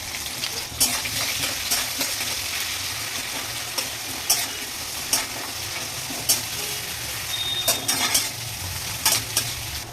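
Onions frying in oil and ghee with mustard seeds in a pan, a continuous close sizzle broken by regular clinks and scrapes of a spoon stirring, with no voices.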